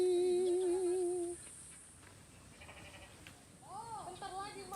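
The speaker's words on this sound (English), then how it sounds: "Sheep, bahasa Indonesia apa sih sheep?" Sheep bleat on a hiking day outdoors, a clear close bleat at the start followed by fainter, wavering bleats later amid soft background noise.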